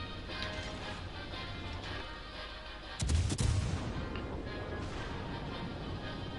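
Battleship gun salvo in a naval video game, a single heavy booming volley breaking out of a low ambient hum, followed by a rumbling tail that fades back into the background.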